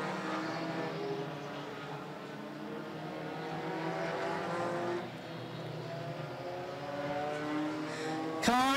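Race cars roar down the back straightaway of an oval track, their engine notes rising and falling as they pass. A continuous loud drone sweeps in pitch, ending in a sharp burst.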